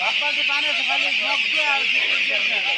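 Crowd of young ducklings peeping densely and continuously inside a small temporary farm shed of bamboo and rope, 1500 Peking and Khaki Campbell ducklings, loud and close with a steady shrill chorus and someone talking over it.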